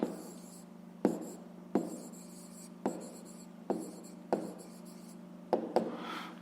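A pen writes an answer to a fifth-grade maths exercise by hand, scratching steadily on paper in short strokes with regular taps, close and quiet, with no talking.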